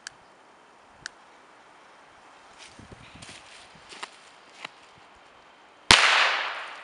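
A Weco firecracker with the old Corsair label goes off in one sharp, loud bang near the end, preceded by a few faint clicks and light footsteps in a quiet outdoor setting.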